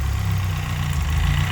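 Toyota Corolla AE82 with a 4AGE 20-valve engine idling at around 1,000 rpm, a steady low rumble with an even, close, continuous tone and no voices.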